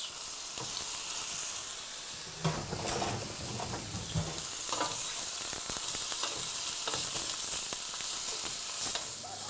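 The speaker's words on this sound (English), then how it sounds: "Our lamb shanks are getting nice and brown" Lamb shanks brown in a pan over a medium-high flame, giving a continuous moderate sizzle broken by several utensil knocks and scrapes as the meat is turned.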